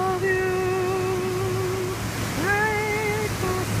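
Pacific Ocean surf at San Diego gives a constant broad wash, overlaid by sustained tonal sounds that rise and fall.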